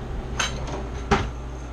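Kitchen utensils clatter as a whisk is pulled out while making oatmeal raisin bars, two or three quick metallic clinks close by over a quiet low hum.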